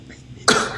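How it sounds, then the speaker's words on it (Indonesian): A single abrupt cough from a person, close and fairly loud, rising suddenly out of quiet room noise and trailing off briefly. "Batuk-batuk."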